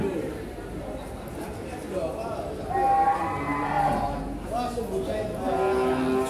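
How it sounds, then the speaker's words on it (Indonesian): Feeder cattle at Kliwon cattle market in Kudus, with near lowing and moos rising over a steady murmur of market crowd chatter and nearby voices throughout. "Seperti ini, sapi-sapi bakalan jogrok. Pasar Sapi Kliwon Kudus"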